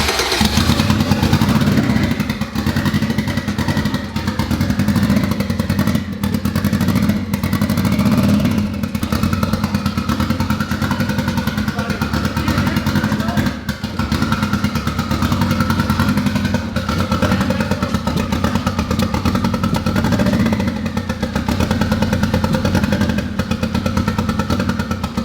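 Boosted Honda K20 engine in a Civic, running after its first start, a loud continuous rough idle with clattering and uneven pulsing throughout.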